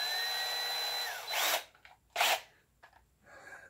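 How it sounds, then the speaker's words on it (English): A power drill whines steadily at first, then gives a few short bursts with brief pauses between, close and fairly loud. "drilling."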